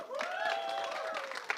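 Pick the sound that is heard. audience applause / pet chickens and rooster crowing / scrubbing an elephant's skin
audience applause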